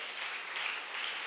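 A church congregation applauds during a Filipino preaching service, a steady wash of clapping from many hands that holds evenly throughout at moderate, somewhat distant level.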